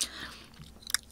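Crispy seasoned fried chicken bitten with a crunch, a short crackling bite at the start and another sharp crunchy burst near the end, close and clear with no talking.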